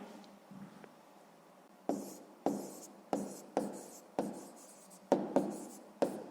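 A pen writes an answer by hand on paper in a quiet room. Each stroke gives a close, crisp scratch, about eight in a steady rhythm, with short pauses between them.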